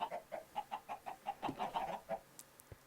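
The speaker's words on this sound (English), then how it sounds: "Yes, that's my chicken farm." A Minecraft chicken farm gives out a quick, rhythmic run of about a dozen clucks, clear and close, ending with a few brief clicks.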